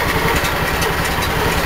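A snow blower's small engine idles steadily at about 1200 RPM, a loud, even, low chugging hum that stays constant with no other sounds.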